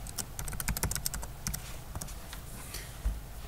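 Quick bursts of keystrokes on a computer keyboard as a root password is entered on a Windows 8 machine, crisp clicks in an irregular rhythm, close and clear with faint background noise.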